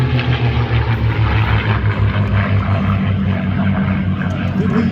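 P-51 Mustang warbird propeller engines drone steadily and loudly throughout as the aircraft makes a final pass before departing an air show at Tahoe, with no break in the continuous roar.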